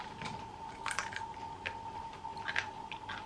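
Close chewing and crunchy bites into candied strawberry tanghulu with a sticky sugar shell, a few crisp crackles then soft mastication, alone without talk.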